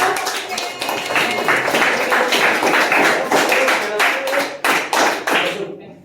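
An audience claps for the presenters, dense hand applause that swells and carries on in uneven bursts before thinning out and fading at the end.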